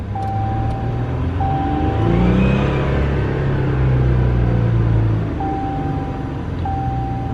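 An EcoDiesel pickup truck engine drones and climbs in revs on a dyno, a loud, close, rumbling run that swells in the middle and then settles, with short steady beeps from equipment around it and no talking.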